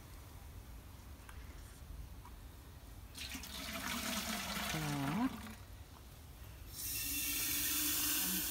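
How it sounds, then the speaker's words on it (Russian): Water is poured to measure it out for a garden pest spray, heard as two bursts of splashing flow separated by a pause, with faint background noise and a brief spoken word. "Он наливает воду"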